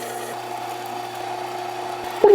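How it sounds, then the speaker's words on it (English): A meat grinder pushes chilled beef through its small die with a steady mechanical motor whine and a faint tonal hum. The sound stays close and continuous, then ends with a brief clunk. "Now that our meat is sufficiently chilled, through the grinder we go, going through the small die today"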